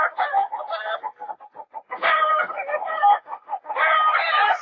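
Chickens cluck close by in short bursts of nasal, rhythmic clucks with brief gaps between them, no voices over the sound.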